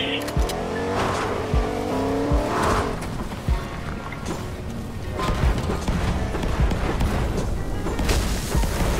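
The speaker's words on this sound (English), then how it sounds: "you can actually go on water with trucks now" A truck speeds across water in the Fortnite video game, its engine roaring steadily for about nine seconds among bursts and clatter of game effects, with no talk.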